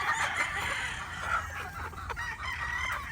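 Yellow-legged Hatch gamefowl chickens clucking and crowing at a harvest-size flock, with steady overlapping calls close by throughout.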